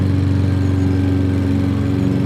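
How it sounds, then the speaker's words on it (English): A lawn mower runs steadily on a garden lawn, a loud close engine drone with a constant low hum and no break, no voices. "Ali is mowing the lawn."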